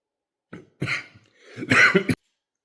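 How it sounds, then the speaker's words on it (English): A burst of harsh coughing, several rough coughs close to the listener, separated by short pauses, ending abruptly into silence. "I just took a coughing fit there"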